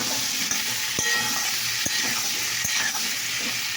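Potato and pointed gourd frying in a pan give a steady broadband sizzle, with a few sharp clicks of a spatula stirring them, close and continuous with no talking.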